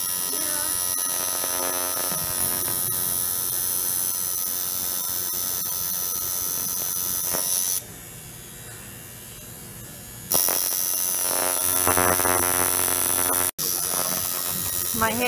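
Tattoo machine buzzing steadily, a loud continuous electric hum with harmonics, briefly dropping and cutting out near the middle before resuming close and strong.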